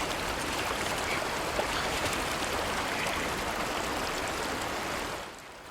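A stream rushes in a scene from the movie A Quiet Place, a close, steady broadband wash of flowing water that holds evenly and then drops away near the end.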